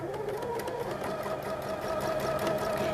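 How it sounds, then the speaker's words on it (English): A sewing machine stitches a flying geese quilt block, running in one steady, close, continuous whir with no pauses and no talking. "and begin sewing."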